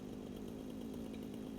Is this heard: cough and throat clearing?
no